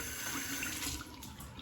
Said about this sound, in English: Just soak the brush under hot water.